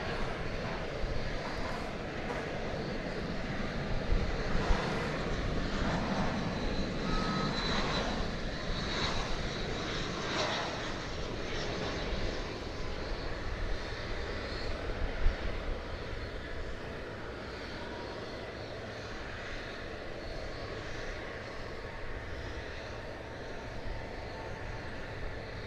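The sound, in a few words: American Airlines airliner landing at DFW Airport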